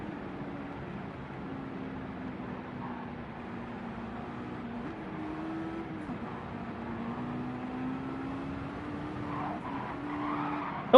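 Mazda Miata tires skidding and squealing as the car loses traction in Gran Turismo 7, a steady wavering screech under low engine noise that holds for several seconds with small pitch shifts.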